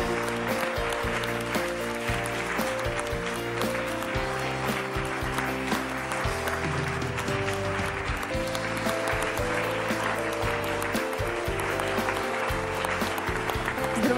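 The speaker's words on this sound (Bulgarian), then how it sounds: "Нека посрещнем сега с много силни аплодисменти капитана на футболен клуб ЦСКА Валентин Илиев" A television studio audience gives sustained, loud applause welcoming the captain of CSKA football club, Valentin Iliev, with steady clapping layered over music playing throughout.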